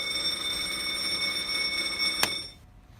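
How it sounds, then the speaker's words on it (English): A steady electronic engine alarm tone with several high harmonics sounds over the rumble of a 120hp Ford Lehman marine engine, a sharp click near the end as it shuts off, then the noise drops away. "if I shut engine off, you will get the alarm."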